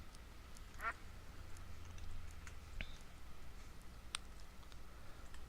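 A duck in the video game TerraFirmaCraft lets out one short, clear quack early on, set against a steady low ambient hum that runs throughout.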